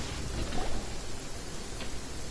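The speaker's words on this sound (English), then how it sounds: "quite a downpour. Nothing will get done." Steady rain downpour in Genshin Impact, a dense, even hiss of falling water filling the scene at moderate loudness with no other clear sounds.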